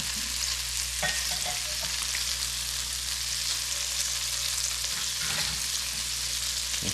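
Spot prawns fry in a pan with a loud, even sizzle that runs throughout, with a few soft clicks of tongs flipping them, and no one talking.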